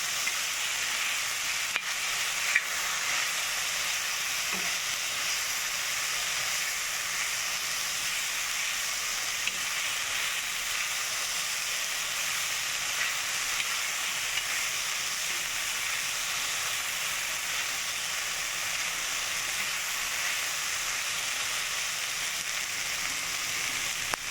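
Corn kernels fry on a hot tawa with salt and green chillies, giving a steady, even sizzle and hiss that runs throughout with only an occasional faint clink.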